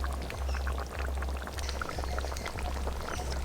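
Water poured into ground garam masala to mix a paste for a stingray curry, a steady liquid pour running close and continuous with a low rumble underneath, no voices.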